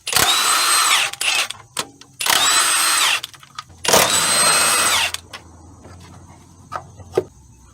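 A power tool, likely an impact wrench, spins off 14mm bolts from a motor mount bracket on a Toyota Camry, firing three loud sustained bursts with short clicks and rattles between them.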